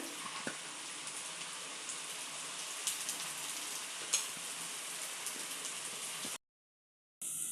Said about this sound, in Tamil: ஒன்றா போட்டு மீடியம் ஃப்ளேமில் வச்சு பொரிச்சு எடுத்துக்கோங்க.